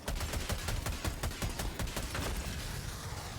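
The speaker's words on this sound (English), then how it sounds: "So I'm head shooting, or else this takes, like, all of your ammo." Rapid gunfire in Helldivers aimed at robot heads, a dense burst of sharp shots loud and close for about two seconds before trailing off into a softer rumble.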